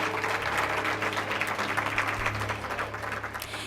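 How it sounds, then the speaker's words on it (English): Applause from an audience at a seventh annual Black Celebratory alumni event, a steady wash of clapping heard from a distance, fairly faint and continuous. "Can we have a round of applause just for the fact that this event is in its 7th year?"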